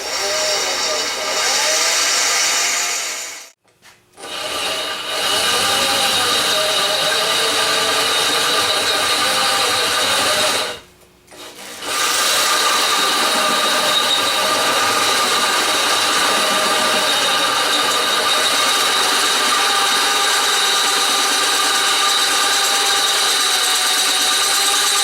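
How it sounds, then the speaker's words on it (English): Power drill running a 1/4 inch bit into a Volkswagen valve cover, a loud continuous whine held for long stretches with two short pauses where the bit stops and restarts. "Okay, we got that drilled out, guys."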